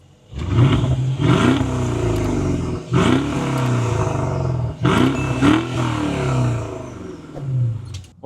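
A 2015 Mercedes-Benz S550 Coupe V8 with dual exhaust tips revs hard in three or four loud, roaring bursts, each climbing and falling back, recorded close with no talking.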